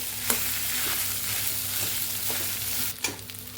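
Dosa bite batter being stirred with added salt, a steady close scraping and mixing texture with a few soft knocks from the spoon against the bowl, no voices.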